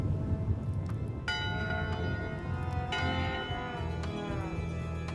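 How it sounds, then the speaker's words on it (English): A ship's bell in the Return to Monkey Island video game rings in two clear, resonant strikes with long ringing decay, over a steady ambient background of creaking and low rumble. "1 bell, crew voting. 2 bells, LeChuck shouting"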